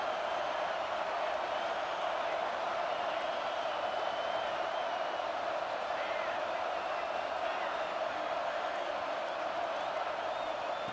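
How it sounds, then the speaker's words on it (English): Stadium crowd roar from the EA Sports College Football 26 video game, a dense continuous wash of cheering at steady level with no pauses. "This crowd is trying to inspire this defense to make a big red zone stop."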